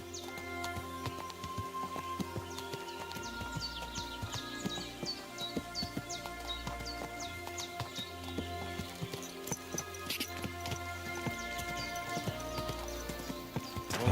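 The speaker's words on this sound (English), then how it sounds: "There's our horse there as well." Horse hooves clip-clop at a steady walking rhythm in the medieval game Kingdom Come Deliverance 2, with faint birdsong and a low musical bed behind the footfalls.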